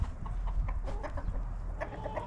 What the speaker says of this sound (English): Bean is over here trying to kill the chickens.